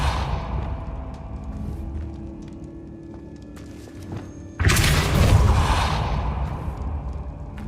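A Repulsor spell in Hogwarts Legacy fires a loud blast partway through, a sharp booming burst with a rushing whoosh that stays strong for a few seconds over a steady low in-game ambience.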